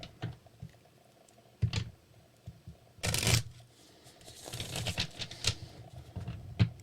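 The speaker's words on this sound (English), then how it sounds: "So I'm going to go ahead and get started on shuffling here." Quiet, intermittent tarot card shuffling: soft riffling bursts and patter with brief pauses, one louder flurry midway and a longer stretch of rustling toward the end.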